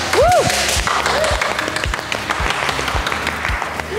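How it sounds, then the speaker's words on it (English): A host at an Anther Gin cellar door in Geelong, Victoria, gives quick, small shaking claps with light thumps underneath. A voice whoops over the start and others chatter in the background. "I'm just doing the little shaking claps here."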